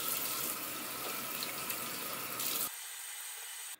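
Tap water runs steadily from a faucet into a sink during a face rinse, a close, broadband rushing wash that cuts off abruptly near the end.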